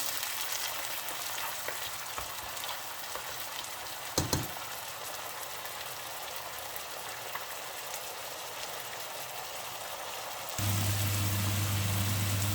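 Onions and tomato sauce sauté in a pan with a steady, fairly quiet sizzle that runs throughout, a brief clatter partway in, and a louder, denser hiss near the end.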